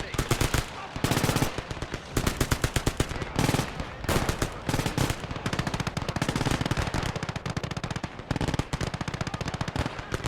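Machine gun fire in the World War II video game Gates of Hell Ostfront, with long rattling bursts and overlapping shots that run almost continuously and close throughout, amid battle noise.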